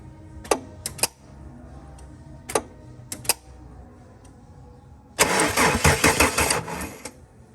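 A car engine that has sat for ten years cranks and fires after several short clicks and a brief starter attempt, then catches into a loud, rough, uneven idle that runs to the end.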